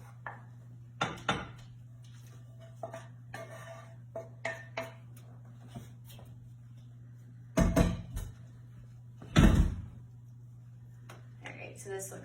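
Chicken pot pie filling is scraped into a pan with scattered clinks of a spoon on cookware, then two louder bursts of clattering and scraping, all under a steady low kitchen hum.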